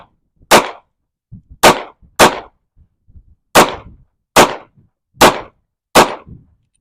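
Seven sharp gunshots crack out one at a time at a target, evenly spaced about a second apart, loud and close, each with a short decaying tail and no talking between them.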